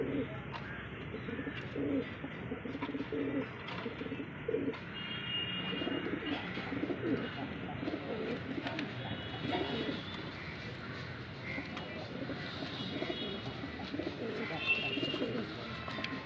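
Kaldume pigeons coo repeatedly in soft, rolling calls at close range, with some faint chirps and a low murmur of background noise, and someone talking intermittently.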